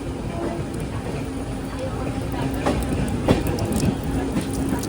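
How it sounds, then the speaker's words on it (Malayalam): A local train on the CST line nears Panvel with a steady rumble and faint rail clicks, heard from a moving express train under a constant background roar. "അവിടെ നിന്നൊരു ലോക്കൽ ട്രെയിൻ വരുന്നത് കാണാം"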